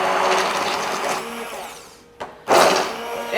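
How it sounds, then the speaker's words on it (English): Blender whirring steadily as it mixes a creamy emulsified sauce, a dense motor drone that cuts out briefly near the end and then kicks back in loudly. "If you have a licuadora. A blender."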